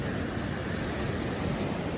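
Rough ocean surf churns in a steady, broad wash with wind buffeting the microphone, continuous and fairly loud throughout with no voices.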